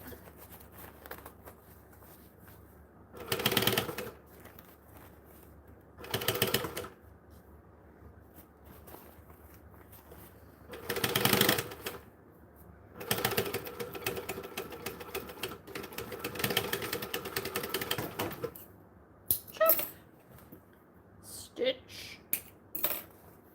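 A home sewing machine stitches fabric curves in several separate bursts of close mechanical whirring, the longest run lasting several seconds, with quieter handling clicks and pauses between stitching passes.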